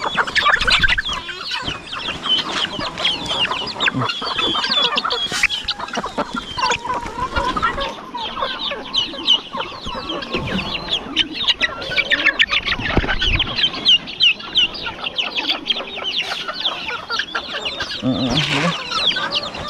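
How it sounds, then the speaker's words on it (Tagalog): Several chickens cluck and squawk continuously nearby, a busy overlapping flock chatter with occasional wing flaps. "Inagawan siya ng mga manok."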